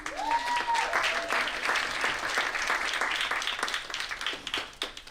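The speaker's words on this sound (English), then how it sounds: "I need a round of applause for happiness." A lecture audience breaks into a round of applause, dense clapping that stays loud for about five seconds before thinning at the end, with a brief voice-like tone near the start.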